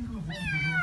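A cat lets out one drawn-out meow that rises and then falls, close and clear, lasting under a second.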